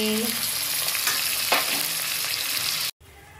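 Tomato, onion, ginger, garlic and turmeric frying in a pan, giving a dense steady sizzle with a few stirring scrapes, which cuts off abruptly into quieter room tone near the end.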